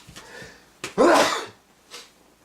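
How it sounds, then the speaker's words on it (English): A single sharp sneeze bursts out close to the microphone, preceded by a quick intake of breath and followed by a faint exhale. "excuse me, I'm sneezing"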